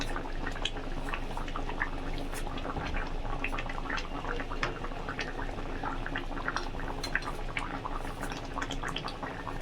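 A pot of fish curry with elephant foot yam and potato bubbles at a steady boil, with dense, continuous popping and small drips close up, steady in level and without any talk.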